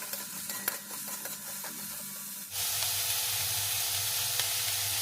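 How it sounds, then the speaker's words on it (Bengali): Chopped onion, salted to speed frying, hits hot oil in a pan: quiet clattering gives way halfway through to a sudden loud, steady sizzle that continues close up with no talk. "পেঁয়াজটাকে কুচি করে গরম তেলের উপরে দিয়ে দাও"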